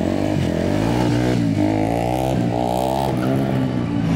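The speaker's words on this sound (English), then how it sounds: "there's for sure a whole bunch of motorcycles." Several motorcycle engines at a retro motorcycle gathering rumble and rev together up close, a dense, continuous roar with rising and falling throttle.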